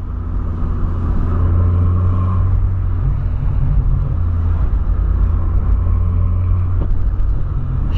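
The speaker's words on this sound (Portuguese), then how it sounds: "Nossa, tá top acelerar esse carro agora" A Volkswagen Polo fitted with a new engine accelerates in a loud, steady, close-up run, its low engine rumble holding strong throughout with no voices.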